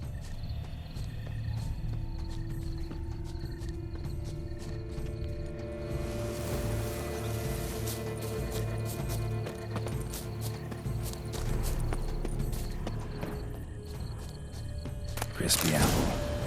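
A horse in The Witcher 3: Wild Hunt clip-clops steadily across the ground amid a busy game soundscape of insects and ambient hum, a voice sounding intermittently over it.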